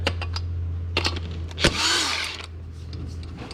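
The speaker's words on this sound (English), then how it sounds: "Lug nuts are coming out smooth." A power tool removes lug nuts from the rear wheels of a 1971 Oldsmobile Cutlass. Sharp clicks and short bursts lead into one longer whirring burst midway, over a steady low hum.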